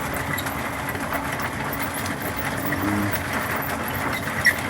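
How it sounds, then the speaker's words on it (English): A homemade variable-speed rock tumbler driven by a fan motor runs with a continuous low mechanical hum and faint rumble of tumbling rocks, steady and even for the whole stretch. "Alright, so here's my tumbling setup."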